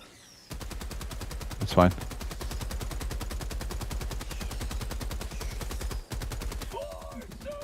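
A big gun fires at bugs in Helldivers 2: a long, steady stream of rapid automatic shots runs for several seconds, with a sharp burst near the start, a brief break near the end and a short spoken remark.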